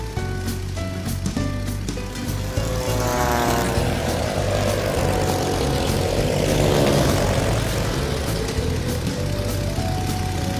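A propeller airplane flies past while dropping wildlife vaccine baits over open countryside, its engine droning loudly and rising then falling in pitch as it passes close overhead, with no talk.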